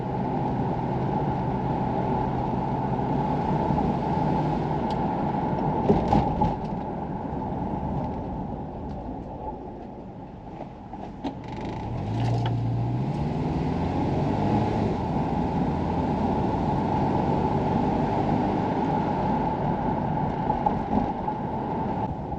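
A Subaru Forester with a reinstalled EJ25 engine runs at a steady idle, a close, even rumble that holds throughout with a brief dip partway and no talk over it.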